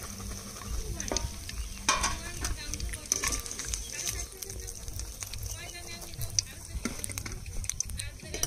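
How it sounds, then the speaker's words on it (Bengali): Potato rings frying in hot oil make a busy, crackling sizzle, with repeated clattering stirs and scrapes in the pan, heard up close. "পটেটো রিংগুলো ভাজা হয়ে গেছে"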